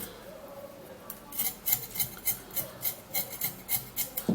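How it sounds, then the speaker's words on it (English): Fresh ginger root is scraped to remove its peel, giving a run of rhythmic rasping strokes, close and fairly quiet, about a dozen evenly spaced scrapes after a brief soft start. "we're going to prepare this ginger by scraping off the peel."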